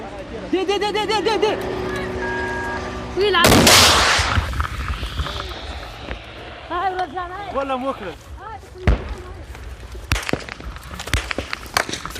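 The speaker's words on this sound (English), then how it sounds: "the police shoot back as they continue driving north" Police return gunfire through fog from moving vehicles during a Taliban attack, with sharp shots and bursts ringing out among shouting voices and engine noise, one heavy blast standing out early on.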